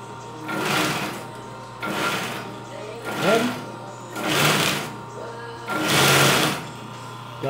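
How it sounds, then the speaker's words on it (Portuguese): A homemade belt sander powered by a sewing-machine motor and worked with a foot pedal, used to shape knife blades, whirs up in repeated bursts of about a second each with pauses between, close and loud, while someone talks over it. "motor de máquina de costura, né? Que tem o pedal igualzinho a máquina de costura"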